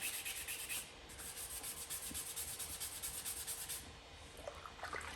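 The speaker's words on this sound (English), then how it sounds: "use a block, which I have right here, and just sand that so it's flat" Steady rhythmic rubbing of sandpaper on a sanding block across a motorcycle fender filler, repeated back-and-forth hand strokes at close range with no voices.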